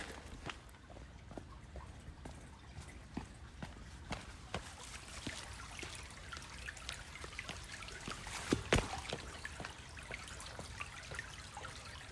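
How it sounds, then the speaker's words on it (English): Water flowing and trickling along a channel outdoors in Japan, a steady wet babble with scattered clicks and splashes, moderately close, with no talking. "The water flows right here."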